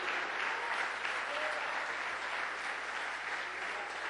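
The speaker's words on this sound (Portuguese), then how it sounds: "Vamos aplaudir a Jesus, irmão." A church congregation applauds during a sermon, a steady, dense wash of many hands clapping together at moderate distance, with no voices over it.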